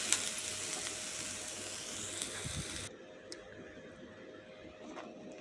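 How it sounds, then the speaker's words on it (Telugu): Pesarattu, a mung bean crepe topped with onion, green chili and cumin, sizzles on a hot pan with a steady broad hiss that drops to a quieter crackle partway through; no one speaks. "పెసరట్టు అయితే బాగా వేగింది."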